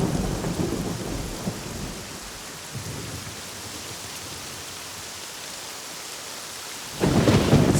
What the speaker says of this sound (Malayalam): മഴ അതിശക്തമായി പെയ്തുകൊണ്ടിരിക്കുന്നു